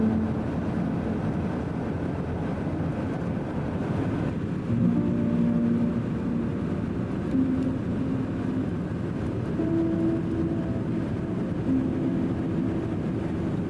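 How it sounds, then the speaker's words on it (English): A BNSF westbound freight train rolls past across an open field, heard from a distance as a steady low rumble with faint rail squeals and tonal hums rising over it, no voices. "we looked out the window and noticed a westbound train across a field"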